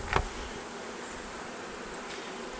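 Honey bees hum steadily at a weak backyard beehive in early fall, a close, continuous buzzing with one louder thump at the start and no talk.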